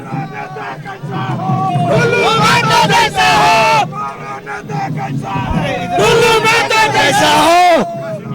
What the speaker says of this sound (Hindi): तो देखिए ढुल्लू महतो के जयकारे के नारे लग रहे हैं।